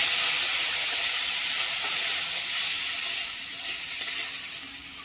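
Chopped tomatoes fry in a pan with a dried chilli and a little mustard seed, giving a steady hissing sizzle that gradually softens.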